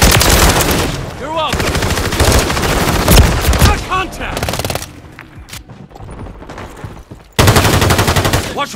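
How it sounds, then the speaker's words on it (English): Dense automatic gunfire in a Call of Duty Modern Warfare III team deathmatch, loud rapid bursts with short lulls and some voices mixed in, then a fresh volley near the end. "Watch where you're shooting!"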